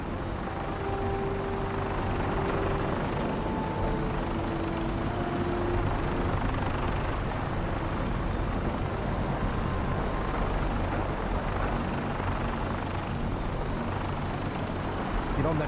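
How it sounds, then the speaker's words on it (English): A gunship helicopter flies in the video game Fallout New Vegas, its rotor and engine droning steadily and fairly loud for the whole stretch, with no break. "Get on that gunship, soldier."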